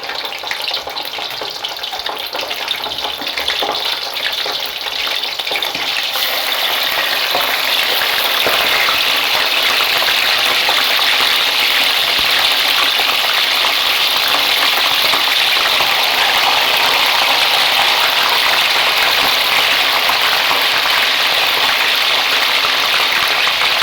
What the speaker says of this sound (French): Nous allons mettre notre poisson à faire frire.